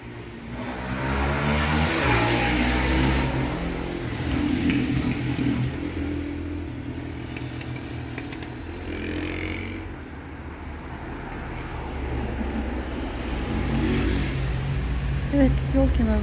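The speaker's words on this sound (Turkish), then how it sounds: "Yol kenarından motosiklet, araba sesleri, araba gürültüsü oluyor maalesef ki." Roadside traffic of cars and motorcycles passing at a steady moderate level, engines swelling and fading, with a person talking over the noise.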